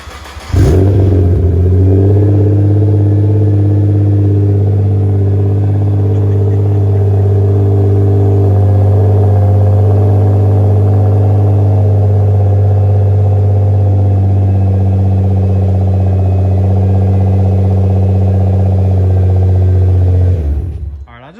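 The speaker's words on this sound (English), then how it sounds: "this is one last cold start with this exhaust setup" A Nissan GTR cold-starts with a Fabworx 3-inch exhaust fitted with cats and mufflers, catching quickly and settling into a loud, steady, deep idle drone that holds for about twenty seconds before shutting off.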